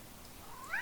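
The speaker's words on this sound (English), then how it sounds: "that's Winnie, that's my cat" A pet cat gives a single short meow near the end, faint against quiet room tone.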